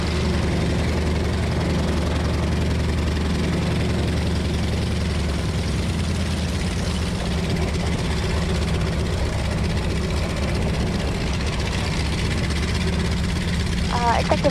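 A Beechcraft C-45 warbird's radial engines drone loud and steady at takeoff during an air force warbird weekend, a continuous low rumbling roar close by, with a voice briefly audible under it.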